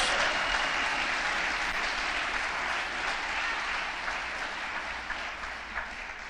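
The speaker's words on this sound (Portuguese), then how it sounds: "Pode dar salva de palmas ao Senhor." Sustained applause from a church congregation at an apostolic conference service, a continuous wash of clapping heard at a moderate distance with a low hum underneath and no speech.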